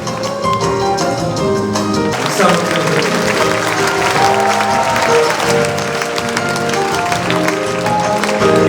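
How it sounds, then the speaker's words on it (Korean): A crowd at a social workers' conference breaks into sustained applause, clapping steadily and loudly over music and background voices. "여러분 사랑의 박수를 모시겠습니다."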